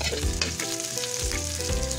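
Garlic and onion sautéing in a pan for chicken tinola, a strong close sizzle with repeated stirring scrapes and spatula knocks in a quick rhythm, no one speaking.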